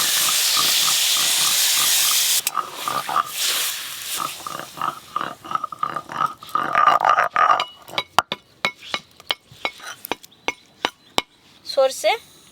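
Water added to a hot pan of potato with ground poppy seed gives a loud steady hiss that breaks into sputtering crackles and clinks, with a voice talking over it.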